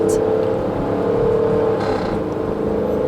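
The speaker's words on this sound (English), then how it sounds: "Listen to that Hemi growl back there." A 2014 Dodge Durango with a Hemi V8, towing a Cimarron horse trailer, accelerates with a steady low engine drone heard from inside the cabin, continuous and moderately loud, with a brief whoosh partway through.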